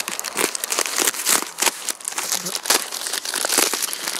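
Small parcel shipped from Shenzhen, China being opened: steady close crinkling and crumpling of packaging with brief tearing, loud and continuous throughout.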